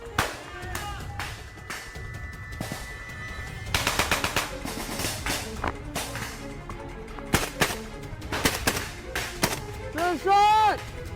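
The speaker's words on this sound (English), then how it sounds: "MJ, continue firing" Gunfire crackles through a military training exercise. Sharp bursts and single shots pop at irregular intervals, some near and some more distant, mixed with voices talking and shouting.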